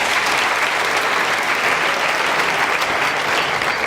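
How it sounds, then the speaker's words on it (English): A University of Johannesburg graduating class of 2017 gives a loud, dense round of applause that fills the hall steadily throughout, with no voices rising above it. "Give yourselves a round of applause."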